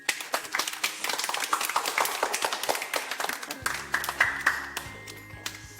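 A small group claps for a participant during a leadership workshop game, scattered close handclaps that thin out after a few seconds, with some room voices around them.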